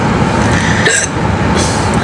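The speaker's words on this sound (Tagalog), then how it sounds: "Ako sinisinok ako." A single hiccup bursts out once, close and fairly loud, over a steady low rumble of road and car noise inside a vehicle.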